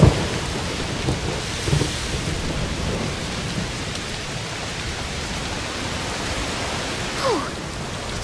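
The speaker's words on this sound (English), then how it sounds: "Must be a heat storm." Steady, heavy rain pours down while low thunder rumbles through a heat storm in A Plague Tale: Requiem, with a brief brighter crack near the end.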